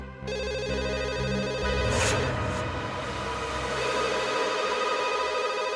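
An electronic telephone ringtone sounds continuously for several seconds, steady and fairly loud, with no voices.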